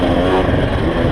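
A 2018 KTM 300 XC-W two-stroke dirt bike engine runs loud and steady under way over whoops, a continuous close buzzing drone with no voices over it.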